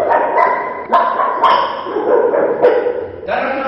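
A voice imitates a small puppy barking, producing a quick series of about six sharp, high yaps in uneven rhythm, loud and close.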